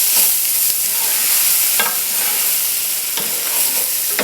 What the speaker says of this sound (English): we're going to saute this for about 1 minute only